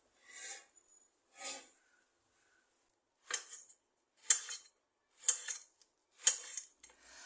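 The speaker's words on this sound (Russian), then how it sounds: "Нарезаю стручковый перец на мелкие кусочки" Crisp knife strokes chopping chili peppers on a board, a few quick cuts, a pause, then a run of evenly spaced chops, close and fairly quiet.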